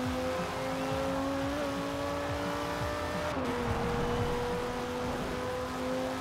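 A V10-powered limousine in the racing game Forza Horizon 4 drives with a steady, sustained engine drone whose pitch dips and climbs slightly as gears and throttle change, heard continuously without talk.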